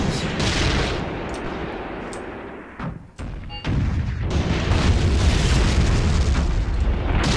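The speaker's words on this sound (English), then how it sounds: "they're under attack by a machine gun here" Machine gun fire and heavy battle noise in the Tank Warfare: Tunisia 1943 game, a loud continuous rumble of bursts and booms that drops out briefly midway before resuming at full intensity.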